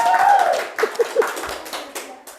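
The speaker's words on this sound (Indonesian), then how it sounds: "Tepuk tangan dulu dong, weh." A voice speaks, then a few short hand claps ring out close by, scattered and uneven, blending with more talking.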